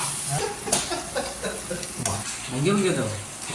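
Whole cloves, cardamom and cinnamon sizzle steadily in hot oil for a chicken and potato curry, a close, continuous frying hiss with a few stirring knocks and a brief voice underneath.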